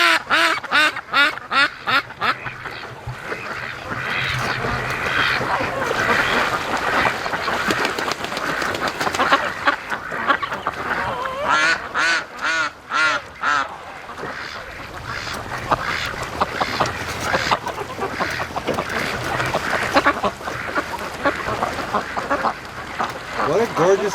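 Flock of free-range ducks quacking steadily across a lake, many birds calling at once in overlapping bursts, with a person talking over them throughout.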